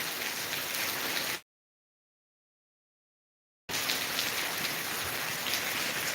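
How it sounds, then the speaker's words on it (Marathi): Continuous rain pours down during a red-alert downpour in Latur, a steady dense hiss that drops out completely for about two seconds midway, then resumes just as loud. "कंटिन्यू पाऊस आहे"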